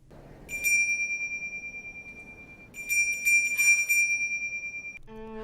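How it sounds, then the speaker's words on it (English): A bright, sustained sleigh bell rings twice in The Polar Express film, each ring holding and fading, with a jingling shimmer over a soft low background murmur. "he now can hear the bell."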